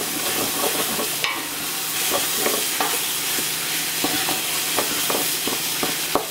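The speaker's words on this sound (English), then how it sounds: "I'm going to add our bacon. Stir that around just a little bit." Browned meat and bacon sizzling in a stew pot while being stirred, a steady hissing fry with scattered scraping and clinking of the spoon against the pot.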